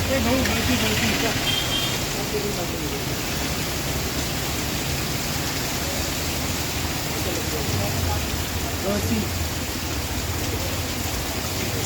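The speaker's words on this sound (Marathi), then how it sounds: "रविवारी पहाटेपासून आलेल्या पावसानं जिल्ह्यात सर्वदूर दमदार हजेरी लावली" Steady monsoon rain in Amravati district hisses continuously in a dense, even wash of noise, holding at a constant level throughout without pauses.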